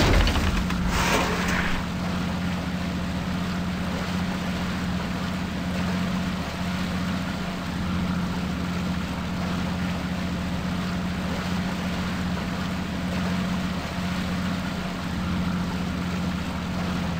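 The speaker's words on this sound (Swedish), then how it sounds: "Hörde du, stäng av motorn. Ljudet skrämmer ju säl." A motorboat engine drones steadily and loudly close by, a continuous low hum with waterborne rumble and no voices, after a brief louder start.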